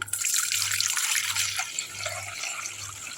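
Water running steadily from a tap into a vessel of edible lime, a continuous close splashing and trickling with a faint low hum beneath, no voices.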